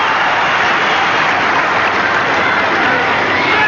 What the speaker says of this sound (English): The applause for Izzard leaving the field.